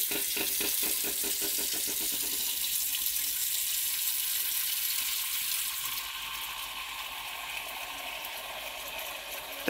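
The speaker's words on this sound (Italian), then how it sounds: "Riempita la pentola." Tap water running into a cooking pot for pasta, a loud continuous gushing splash whose pitch shifts as the pot fills, alone without speech.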